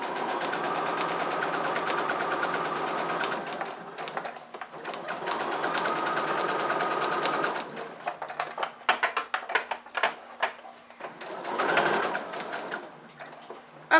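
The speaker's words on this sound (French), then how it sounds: "Donc c'est parti pour la couture. Je pars de ma première pince." A sewing machine stitching a fabric roll-up pencil case, running in steady whirring bursts with short stops as the needle is set and the work turned, close and fairly loud, no speech.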